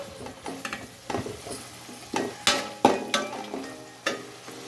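Tomatoes go into a sizzling pan for chicken biryani, and a spoon stirs them in repeated sharp scrapes and clinks over steady frying hiss, close by.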